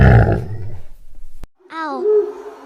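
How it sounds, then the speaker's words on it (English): A tiger roar sound effect, one loud, rough growling roar that tails off, followed after a short silence by a higher, tonal wavering cry. "Tiger."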